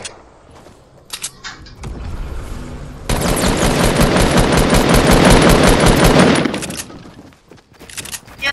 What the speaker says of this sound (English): Yeah, that was sniper.